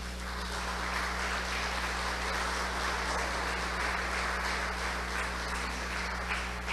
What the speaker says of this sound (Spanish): vamos a recibirla con un fuerte aplauso